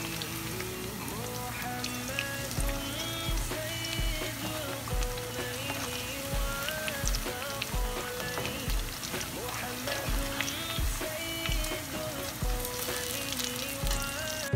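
Pakoras and bowl-shaped chips fry in hot oil in a home kitchen, giving a close, continuous, dense sizzle and crackle throughout with a faint voice underneath.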